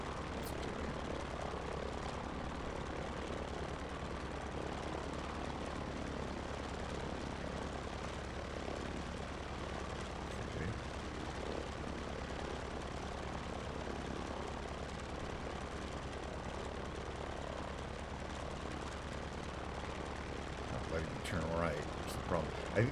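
A propeller airplane engine drones steadily in Microsoft Flight Simulator, a constant low throbbing hum running throughout at moderate level while someone talks over it.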